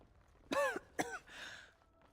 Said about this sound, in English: coughed at me. Ew. Oh, that's gross.